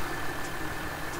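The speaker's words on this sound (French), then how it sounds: "je vais pas arrêter le tracteur, moi." A farm tractor sits idling in the Auvergne countryside, a steady, even mechanical rumble with broad noise and no talking.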